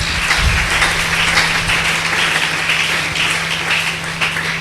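A church congregation applauding loudly for the glory of God, a continuous wash of many hands clapping at an even level, with a low steady hum underneath.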